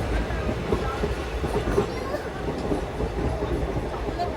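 Bhagirathi Express passenger train in motion, a steady low rumble with faint rhythmic rail clatter running continuously and evenly at moderate loudness throughout.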